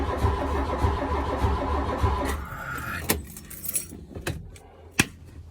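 An engine cranks on a barn find MK1 Volkswagen Golf GTI that will not fire, with a steady rhythmic turning for a couple of seconds before it stops, followed by scattered close clicks and clunks, loud and without talk.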